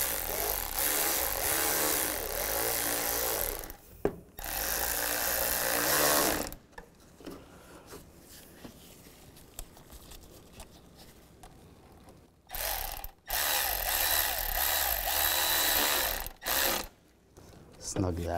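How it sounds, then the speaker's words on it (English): Worm clamps are ratcheted tight on the intake boot of a 2011-2015 Chevy Cruze, with rapid clicking bursts close by broken by pauses and quieter handling noise. "And tighten down the worm clamps"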